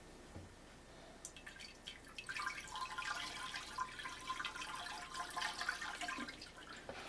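Water trickling from a toilet's clogged rim jets into the bowl: a faint, soft drip that swells into a steadier, splashy trickle close by.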